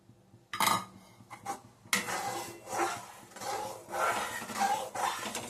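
Sugar and juice for orange jelly stirred in a metal pot, a spoon clanking and scraping against the sides in repeated close strokes, with a few sharp knocks at the start.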